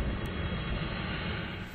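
An RC turbine jet model airplane flies in to land, its steady broad roar loud and continuous with no voices.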